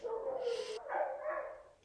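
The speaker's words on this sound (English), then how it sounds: "Oh man, my dogs." Dogs bark and yip faintly in the distance in a short run of high, strained calls lasting under two seconds.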